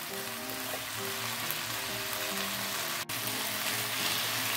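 Salted mustard greens and egg sizzle steadily in a hot pan while being stir-fried, a dense continuous crackle with a brief utensil knock partway through.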